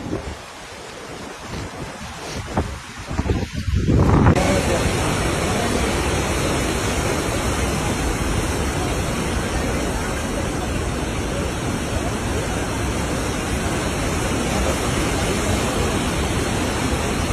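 A flooded river in Sri Lanka rushing past a damaged bridge, a loud, dense, unbroken roar of water with wind buffeting the microphone, after a few seconds of quieter handling noise at the start.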